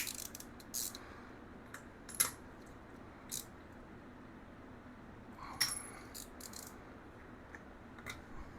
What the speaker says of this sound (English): I'm going to go ahead and put the spark plug back in.